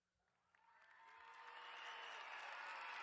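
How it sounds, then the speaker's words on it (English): Applause and cheering from a soundboard sound effect, swelling from quiet to a steady, dense clapping crowd that holds loud to the end, with no talk over it. "Nice cheer. Applause. Cheer."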